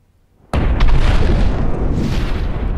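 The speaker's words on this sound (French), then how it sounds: "Tout commença avec le Big Bang." A huge cinematic explosion for the Big Bang: a sudden loud boom that bursts out of silence, then a sustained roaring rumble that carries on at full strength without fading.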